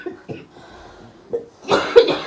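A woman coughs a few times with a throat irritated by wheat chaff dust from threshing, the coughs soft and scattered at first, then a louder, harsher burst near the end.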